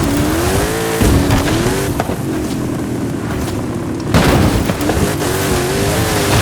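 Race car engine in Forza Horizon 5 on a custom map, loud and continuous, revving and shifting gears with rising tones, tire squeal and skidding as the car corners hard.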